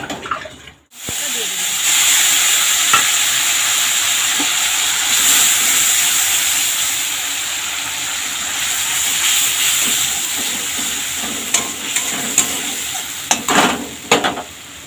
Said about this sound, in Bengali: আর দিলাম গোটা গরম মশলা। সব মশলাগুলো একটু ভালো করে ভেজে নিতে হবে।